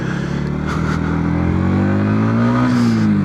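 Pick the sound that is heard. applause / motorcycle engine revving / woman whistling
motorcycle engine revving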